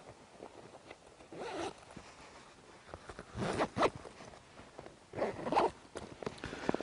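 A two-way zipper on a Tasmanian Tiger Trooper Pack backpack, heard as several close, rasping zip pulls in bursts, with softer fabric rustling between them.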